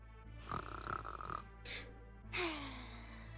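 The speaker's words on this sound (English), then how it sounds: "The over-exaggerated snoring." Exaggerated cartoonish snoring from a Trials of Mana game character: a long drawn inhale rumble, a brief hissing snort, then a second snore sliding downward, loud and close with no talk.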